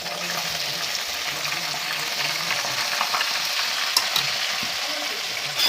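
Onions fry with cumin in hot oil, giving a steady close sizzle with a soft bubbling crackle and occasional light scrapes of stirring throughout.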